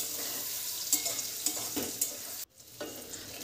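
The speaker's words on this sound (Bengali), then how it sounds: "পনিরগুলোকে উল্টে পাল্টে একটু ভেজে নিচ্ছি" Paneer cubes frying in a pan, being turned over as they cook: a steady close sizzle with scattered stirring clinks and scrapes, plus a brief lull partway through.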